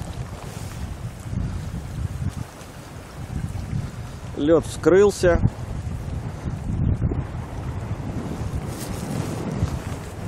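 Strong wind buffets the microphone with gusty rumble throughout, out on the ice of the Oka river in March, while someone speaks briefly in Russian in the middle.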